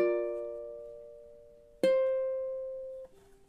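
Ukulele phrase from measures 7 and 8 of a song: a ringing chord fades, then a sharp new strum at about two seconds sustains before a soft final note, played alone and close.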